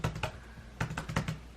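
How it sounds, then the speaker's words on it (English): Keystrokes tapping on a computer keyboard, repeatedly hitting the space bar in quick, slightly uneven bursts, close and crisp with no talking. "I just type a ton of spaces"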